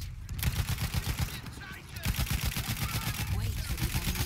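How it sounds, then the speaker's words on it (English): Battlefield 1 battle with an artillery barrage and rapid gunfire, dense bursts of shots and booms thudding close and continuously, with talk mixed in. "Wait for the enemy artillery barrage to stop firing"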